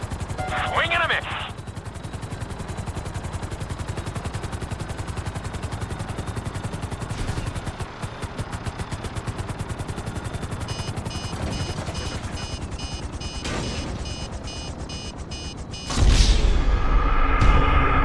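Helicopter in the video game GTA V, a steady rapid rotor chop with engine whine running throughout, briefly joined by a sharp chirp early on and a louder rush of noise near the end, no talk.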